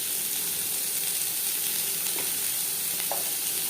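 Four medium onions frying in mustard oil in a pan for a Bengali fish-oil chorchori, a steady close hiss of sizzling with a couple of faint clinks, no talk.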